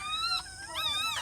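High, thin whimpering squeals from a newborn puppy, two drawn-out wavering cries close by with a short pause between.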